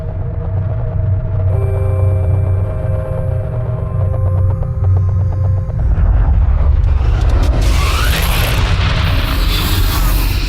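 A bomb goes off in a dubbed action film scene. Sustained tonal music and a low rumble give way to a loud, broad roaring blast that swells and carries on to the end.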